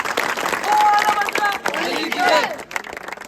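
A group claps together at a dahi handi practice gathering, the dense applause mixed with excited shouting and chatter from the crowd.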